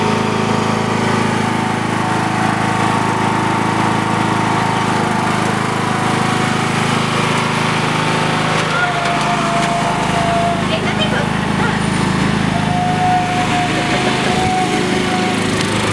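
A lawn mower runs steadily throughout, a constant close engine drone with a low hum, while people talk over it.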